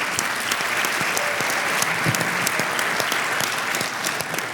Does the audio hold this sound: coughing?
no